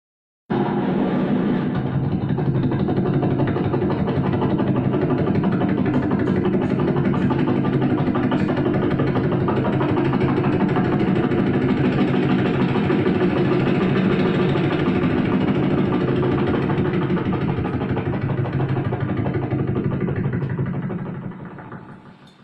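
A motorcycle engine idles steadily and close by for about twenty seconds with a low, even rumble and no voices, then cuts off at the end.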